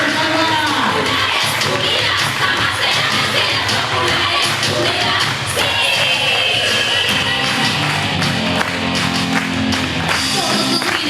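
A crowd at a show in a fishing club hall in San Clemente claps along, with cheers, shouts and shuffling mixed into a continuous, loud wall of noise, and voices call out over it.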